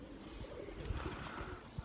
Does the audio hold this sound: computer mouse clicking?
no